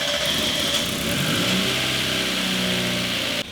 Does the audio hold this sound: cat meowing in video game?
no